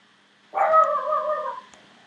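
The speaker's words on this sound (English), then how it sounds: "Well, there's my dog barking." A dog indoors lets out one drawn-out, howling bark lasting about a second, clear and fairly close against an otherwise quiet room.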